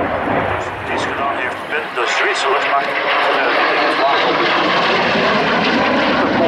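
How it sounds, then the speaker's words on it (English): A Swedish Saab Viggen jet fighter, built by Saab as one of Sweden's early jet combat aircraft, roars steadily and loudly past at the 2012 Sanicole air show, with a commentator speaking over the continuous engine noise. "They're built by Saab in the 1950s, Sweden's second jet-powered combat aircraft."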